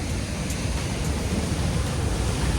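Floodwater rushing over the spillway of Maha Kanadarawa dam in heavy rain makes a constant broadband roar, close and even, with no voices over it.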